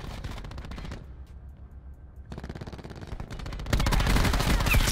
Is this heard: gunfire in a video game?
yes